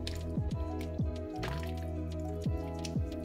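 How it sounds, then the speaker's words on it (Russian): Liquid vinegar essence is added to a pot of homemade lecho of bell peppers and zucchini, giving a run of soft drips and wet squishy plops, moderately close and continuous, with no speech. "Я добавляю эссенцию 2 чайных ложки"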